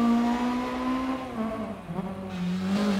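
A Peugeot 306 Maxi rally car in the DiRT 4 racing game, its engine holding a high, steady buzzing note that dips briefly as the revs drop and then climbs again, with some tire noise and no talk.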